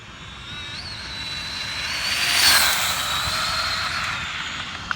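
A Traxxas Slash 4x4 RC car fitted with an alloy battery tray makes a speed pass, its high electric whine swelling as it approaches, peaking midway and fading as it runs off.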